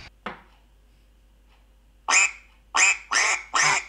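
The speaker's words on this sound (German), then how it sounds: "Das ist eine Ente." A duck quacking: one short quack near the start, then after a pause four loud, close, evenly spaced quacks in a row, with no talking over them.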